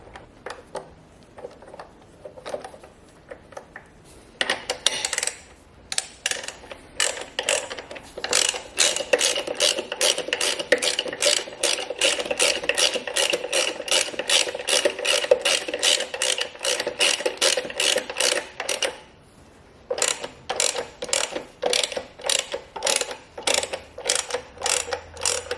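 Hand ratchet tightening the reverse-thread main bolt on the injector pump sprocket of a Ford Ranger 3.2 or 2.2 diesel engine: long runs of rapid, crisp clicks, close and loud, with a brief pause before a final burst of strokes.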